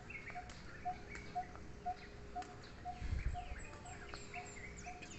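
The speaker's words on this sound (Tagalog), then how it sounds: "Ibon siguro yan." Repeated short bird chirps ring out at an even pace around a quiet resort in Alitagtag, Batangas, with faint insect-like ticking and a soft low rumble in the background.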